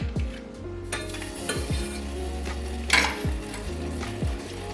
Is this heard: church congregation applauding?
no